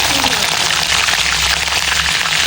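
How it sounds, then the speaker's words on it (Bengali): Prawns fry in very hot oil left over from browning onions, giving a steady, loud, dense sizzle that holds evenly from start to finish. "চিংড়ি মাছগুলোকে খুব বেশি ভাজবো না, মাত্র 1 মিনিট ভাজলেই হবে, যেহেতু তেল খুবই গরম আছে"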